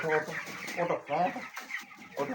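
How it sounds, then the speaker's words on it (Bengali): Chickens on a poultry farm cluck and call close by in short bursts that overlap one another, with a person talking among them. "এই যে মুরগি মুরগিগুলো ফেস করো"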